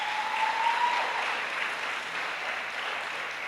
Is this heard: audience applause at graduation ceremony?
yes